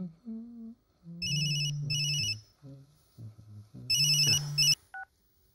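Telephone ringtone in a game-show setting: two short electronic ring bursts, a pause, then another ring over low tonal notes, loud and close with no talk.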